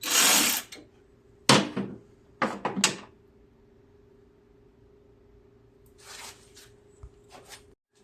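Ten-millimetre solenoid bolts are worked into a John Deere L130 riding mower during a wire harness change, heard as several short metallic ratchet and tool clicks in separate bursts with quiet gaps between them; no speech.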